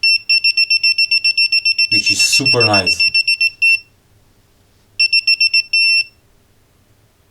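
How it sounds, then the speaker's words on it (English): A cheap pen-style multimeter from AliExpress gives rapid, high electronic beeps in quick pulses that speed up as it nears a source, loud and close, pausing while a voice speaks briefly and then resuming in short bursts. "when you go closer, the beeping is faster"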